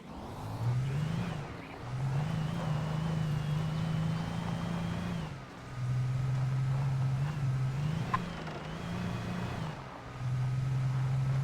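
A car engine in the video game Alan Wake hums and revs in long sustained stretches, dipping briefly between pushes, steady and moderately loud with no talking.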